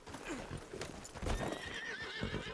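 A horse gallops and whinnies in Red Dead Redemption 2, with rapid hoofbeats rolling under a clear, rising neigh, all close and loud against outdoor game ambience.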